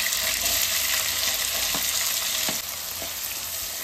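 Onions frying in hot oil with cumin and mustard seeds for pumpkin palya, a loud, steady crackling sizzle with a few faint spoon scrapes, close and continuous, no voices.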